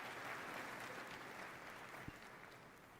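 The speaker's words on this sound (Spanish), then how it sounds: "¿Y los aplausos? Ahí está." Audience applause at a live game showcase event, steady dense clapping from a large crowd heard at a distance, holding evenly for a few seconds and fading slightly at the end.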